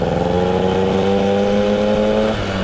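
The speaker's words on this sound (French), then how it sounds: "À bas régime, donc c'est plutôt creux comme pot d'échappement." An MBK 51 moped engine fitted with an MVT S-Race exhaust hums loudly at low revs, a steady hollow drone that dips slightly near the end.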